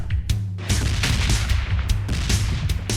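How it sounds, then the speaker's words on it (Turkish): Gunfire from a firefight in PUBG Mobile Lite, with repeated bursts and single shots crackling in quick, irregular clusters at mid distance, some sharper and closer, over a steady background rumble. "Diğerlerde yine çatışma sesleri var"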